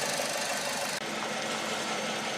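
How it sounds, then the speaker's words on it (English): Engine of a 2007 Kia Rio held at raised revs with the accelerator pressed, a loud, steady mechanical drone with no one talking. "So I might just get on the accelerator and try and get some more heat coming through this engine."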